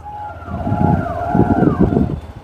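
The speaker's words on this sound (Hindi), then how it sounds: "फाटक वाले ने सायरन बजा दिया फाटक बंद करने के लिए।" A railway crossing warning siren, sounded as the gate closes, wails with rising and falling tones at a moderate distance over a low rumble of passing vehicles.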